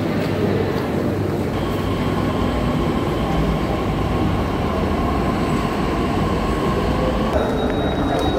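Steady rumble of a Pune Metro train in motion heard from inside the carriage, a continuous close-up rolling drone with a faint high electrical whine, no voices.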